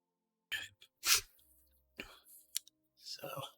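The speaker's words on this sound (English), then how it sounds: "I'm fighting a bit of a cough here" A man coughs several times in short, close bursts with quiet gaps between them, a sharp hack followed by smaller throat-clearing sounds and breaths.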